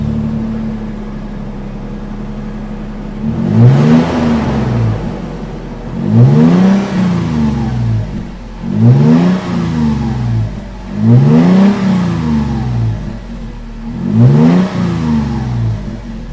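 A warmed-up Toyota 4Runner TRD Pro exhaust revs five times in sharp, evenly spaced bursts, each rising and falling back to a steady idle, loud and close with no talking.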